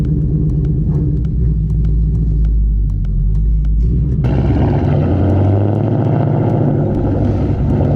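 A Ford Mustang S550 with a Coyote V8 and manual clutch pulls away from a stop. A deep, loud engine rumble holds steady, then rises in pitch and grows rougher as the car gets going. No voices are heard.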